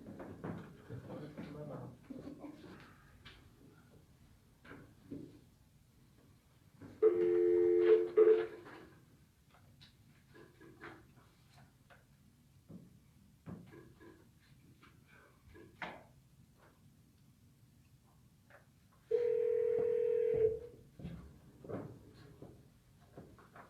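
Speakerphone line tones during a city council meeting: two separate electronic beeps, each about a second long, come well apart against a quiet room with scattered movement noise.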